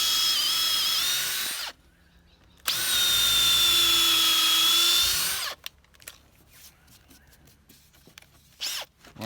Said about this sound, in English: we're going to pre-drill with our 67 mil drill bit